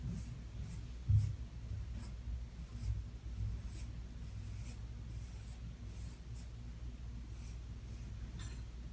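A pencil scratches lines on paper in soft, intermittent strokes, with a slightly heavier stroke near the start, quiet and close with no talk.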